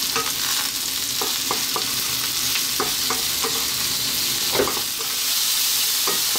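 Onions and fresh mushrooms frying in a pan, a continuous bright sizzle broken by repeated clicks and scrapes from stirring, close and alone.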